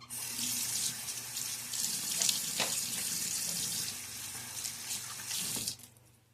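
Water runs steadily from a bathroom tap into a sink during a wet shave with a Timeless 68 OC safety razor, a continuous close hiss that stops abruptly near the end.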